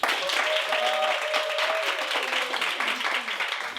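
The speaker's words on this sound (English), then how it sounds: "Very talented young man. Clap it up for DeAndre Lee." An audience at a live show applauds, dense clapping from many hands with a voice talking over it, holding steady before easing slightly at the end.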